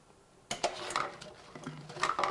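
An egg cracked against the rim of a bowl, heard as a sharp close tap followed by shell rattling and soft clatter of kitchenware, fairly quiet and with no talk.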